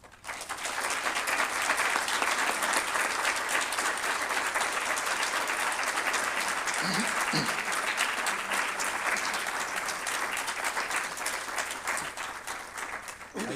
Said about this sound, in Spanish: lo mejor sería cerrar con un fuerte aplauso esto que hemos tenido